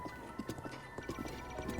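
A horse's hooves clip-clop in Breath of the Wild, a quick, even, fairly quiet trot over the ground with no talking.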